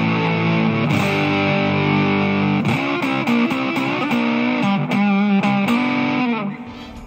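An electric guitar runs through a harsh, crackly overdrive pedal. Sustained, fuzzy distorted chords ring out, then shift into choppier strummed chords, loud and close with no talking.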